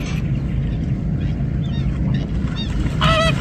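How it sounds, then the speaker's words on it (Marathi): A large flock of flamingos at Ujani dam near Bhigwan calls while taking off, with honking, goose-like cries rising over a steady, dense wash of wingbeats and water noise, and louder calls bursting out near the end. "उजनी धरणावरील फ्लेमिंगो पक्षी आपण पाहतोय"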